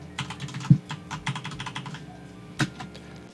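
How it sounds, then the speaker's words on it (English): Computer keyboard typing, a quick close-up run of soft key clicks with two sharper, louder thumps, played alone without any voices. "it's obviously just me like playing on my keyboard."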